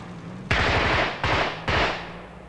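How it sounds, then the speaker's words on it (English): Three sharp gunshot bursts crack out in quick succession in Strabane, Northern Ireland, in 1974, each a loud report followed by a rattling echo. "This is the regular Saturday afternoon shooting incident in Strabane."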